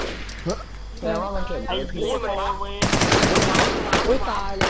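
Rapid automatic gunfire from a Thai online shooter video game, loud bursts of repeated shots growing denser in the second half while players shout excitedly over them.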